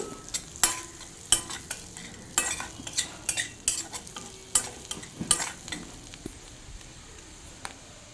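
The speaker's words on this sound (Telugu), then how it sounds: "ఇప్పుడు సన్నగా కట్ చేసి పెట్టుకున్న అల్లం తరుగు వెల్లుల్లి వేస్తున్నాను నేను అల్లం వెల్లుల్లి కొద్దిగా వేయించుకోవాలి" Finely chopped ginger and garlic frying in butter, stirred with a spoon: a steady low sizzle punctuated by regular sharp scrapes and clinks against the pan, fading toward the end.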